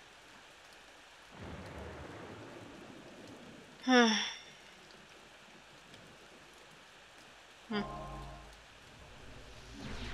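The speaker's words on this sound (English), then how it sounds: "Why is it raining?" Steady rain hisses throughout a scene in the Corpse Party video game, with a soft background wash and a couple of brief louder effects, while a person murmurs briefly.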